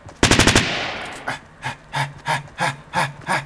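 Short rapid SMG burst in the video game Fortnite Battle Royale, a few quick loud shots at the start followed by a run of soft rhythmic breath-like sounds.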